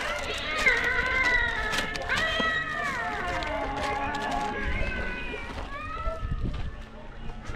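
A cat meows and yowls in long, wavering cries, fairly close, over a steady background hum.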